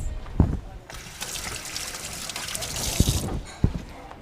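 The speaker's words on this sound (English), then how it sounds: "Wash my hands." Hands being washed under a running kitchen tap, a steady trickle and splash of water running for a few seconds with a few louder knocks of hands or a bowl in between.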